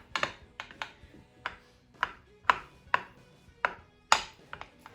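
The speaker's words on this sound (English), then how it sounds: "So I'm cutting into squares" A knife slices a baked vegan asparagus spanakopita into squares, giving about ten crisp, evenly spaced taps and crunches as the blade cuts through the pastry and strikes the board, close and fairly quiet.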